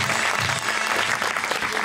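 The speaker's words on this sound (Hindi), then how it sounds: "बहुत सारी ताली होनी चाहिए था" Studio audience applause on an Eid special television transmission, a dense burst of clapping that fills the whole moment, loud and steady with a faint crowd murmur beneath.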